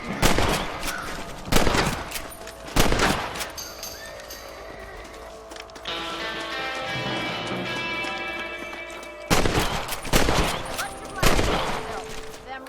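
Rifle fire at rabbits in the Red Dead Redemption video game: sharp, loud shots in uneven bursts, three early and three late, with galloping hooves and game ambience between them.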